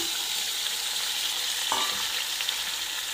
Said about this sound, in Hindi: मटन को आपने अच्छे से फ्राई करना है कि इसका कलर चेंज हो जाए